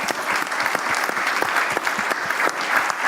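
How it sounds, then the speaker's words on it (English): A conference audience at a media festival applauds a panel discussion, with many hands clapping in a steady, dense roar, crisp individual claps standing out near the front. "There's a round of applause for the panel and Simon moderating brilliantly there."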